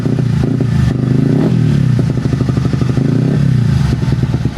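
A car engine idles low and uneven, its rapid putter rising and dipping as it struggles to stay running and stalls, close and steady throughout.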